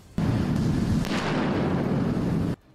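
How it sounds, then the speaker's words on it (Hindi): A mortar shell explodes in a war zone where Russian forces strike Ukrainian positions, a single loud, sudden boom with a heavy, low rumble that holds steady for about two seconds before cutting off. "वहां मोर्टार गिरते ही तेज रोशनी के साथ ऐसा धमाका हुआ कि पूरा इलाका थर्रा गया।"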